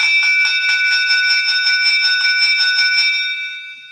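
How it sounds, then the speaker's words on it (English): A loud bell rung rapidly and repeatedly, a bright sustained metallic clang with about a dozen evenly spaced strikes that fade toward the end. "I don't know what bell that is, but I'm ringing it"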